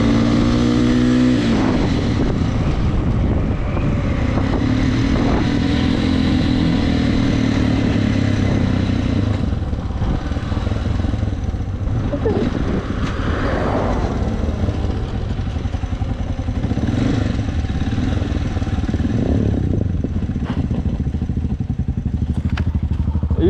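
A Yamaha XT660R single-cylinder motorcycle engine runs steadily and loud throughout, with a continuous rough drone and some clatter, close to the microphone.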